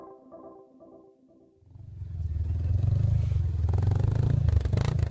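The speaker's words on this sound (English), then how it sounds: "This is the sound of an ATV, or quad bike. It's revving up in front of a long trench full of mud." An ATV quad bike revs up loudly in front of a long mud-filled trench, its engine roar swelling after a quieter opening and holding a steady, throaty drone to the end.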